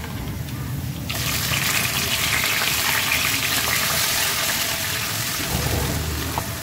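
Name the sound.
onion paste added to frying spices in pan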